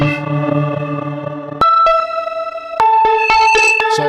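Absynth 6 bass tape synth patch with a sustain loop, playing a mono line of sustained, effect-laden tones that shift pitch in several steps, each attack marked by a sharp click, with echo and chorus smearing, loud and alone without speech.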